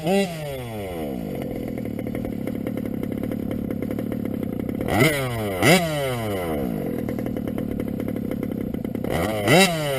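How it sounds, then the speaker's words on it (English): An engine idles too low, a steady rough low-pitched putter with a few sharp revving blips rising and falling in pitch, loud and close, with no talking over it. "Yeah, she's idling too low."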